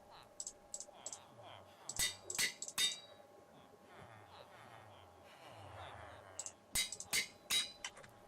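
Minecraft anvil use produces short bursts of bright metallic clinks, several groups of quick strikes separated by quieter gaps, fairly faint overall.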